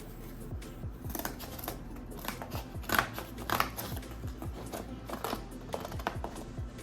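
Scissors snip repeatedly through material for a crochet bag, quiet and close, in an uneven series of short crisp cuts.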